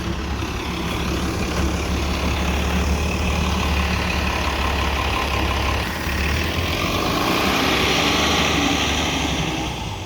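A city bus, number 8194, drives past close by, its loud, steady engine roar and broadband road noise filling the whole stretch with a brief dip midway.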